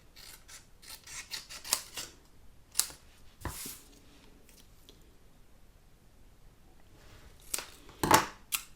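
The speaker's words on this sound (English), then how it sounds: "Just use my small scissors for this, I think." Small scissors snipping around a piece of coloured card stock for a handmade card, quiet close cuts and rustles in a few bursts, with a sharper cluster of snips near the end.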